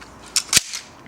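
Armex Tomcat 80-pound crossbow pistol loosing an ABS bolt: a sharp close snap with a quick second crack and a short fading rattle, alone.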